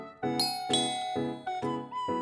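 A home intercom doorbell chime rings out in a series of bright, clear ding tones, about five evenly spaced strikes that ring close and loud with nothing else heard.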